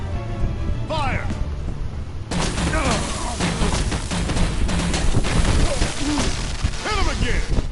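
Gunfire and heavy impacts ring out in the Batman: The Enemy Within game, a dense run of booming shots and crashes close up under shouted voices, after a quieter opening with talk.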